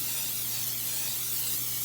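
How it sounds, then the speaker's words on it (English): Cooking spray hissing onto a bread pan, one continuous close aerosol burst lasting a couple of seconds. "So let's spray this pan."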